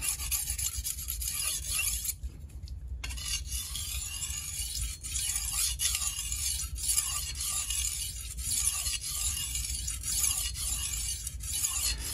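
Dalstrong knife edge stroked repeatedly over a whetstone to even it out, a close, steady gritty rasping with regular pass-by-pass rhythm and one brief pause early on, no voices.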